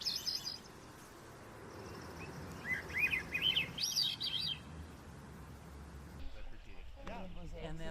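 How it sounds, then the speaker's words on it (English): A Swainson's thrush sings rising, flutelike spiraling phrases over steady outdoor noise, with other birds chirping faintly and voices in the background. "That's a Swainson's thrush."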